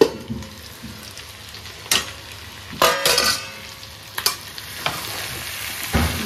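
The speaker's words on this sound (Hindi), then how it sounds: "और ये आप देख सकते हैं कि चिकन पक भी गया है और फ्राई भी अच्छे से हो रहा है।" Chicken sizzles in a pan for a desi-style fry, a steady crackling hiss broken by several sharp scraping bursts as a utensil stirs the pieces, close and with no voices.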